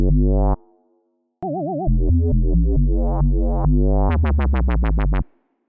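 A loud, gritty overdriven synth bass made with FL Studio's 3xOsc plays a short riff alone, with a pause after the first note and a fast run of bright stabbed notes at the end.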